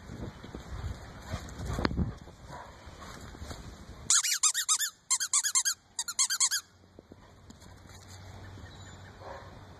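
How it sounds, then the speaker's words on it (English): A squeaky dog toy ball squeaks in a quick burst of about ten sharp, high squeaks close by, following some indistinct shuffling and low noise. "Where's the squeaky ball?"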